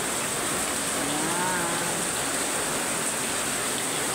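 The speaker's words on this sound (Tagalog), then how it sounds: "Malakas ang ulan guys." Heavy rain pours down outdoors near a workplace, a loud, steady, broadband hiss of drops on surfaces, with a brief word spoken over it.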